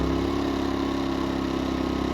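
Harbor Freight Predator 2000 inverter generator running with its economy switch on, a steady close engine hum with a faint regular pulsing, continuous and unbroken.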